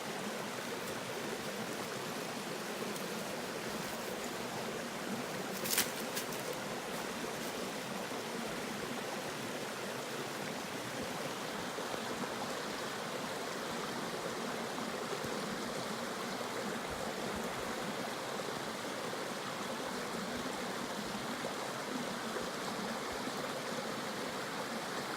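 A creek flows through the woods beside a hiking trail on the Uwharrie Trail, a steady broadband rush and trickle of water that stays even and continuous throughout, with one brief faint knock partway through and no talking.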